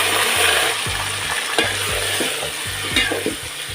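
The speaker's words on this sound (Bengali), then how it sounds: "এই তেলের মধ্যে আমি মাংস দিয়ে দিলাম।" Meat frying in hot oil for a biryani made with ready-mix masala, a steady loud sizzle broken by a run of scraping stirs and spatula knocks against the pot, with no voices.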